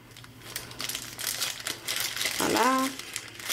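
A plastic packet of art diamonds for a diamond painting kit crinkles and crackles close up as it is worked open, with a short squeaky stretch of plastic near the end.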